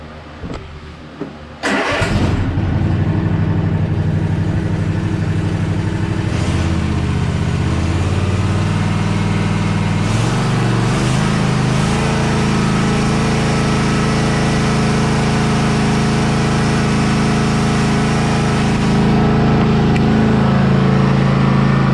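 Cub Cadet RZT-54 zero turn tractor cranking over and catching, then its engine running loud and steady at a close idle, with small shifts in pitch as it settles and rises slightly near the end.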